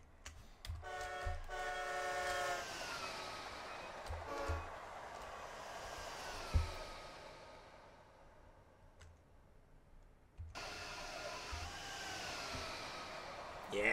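An Acela train in Train Sim World 5 passes, sounding several loud horn blasts early on, its rumble fading into the distance, then a later surge of rail noise.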